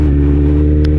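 A Kawasaki Z900 motorcycle fitted with an Akrapovic exhaust holds a loud, close, deep steady engine drone for a brief moment.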